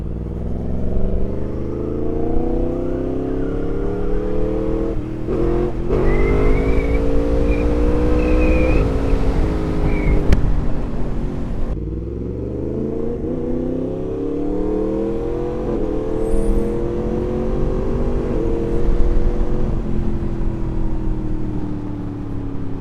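A Yamaha MT-10 motorcycle engine revs hard and steadily through a power wheelie, its loud droning pitch rising and falling with throttle changes, heard close from the rider's position over continuous wind rush.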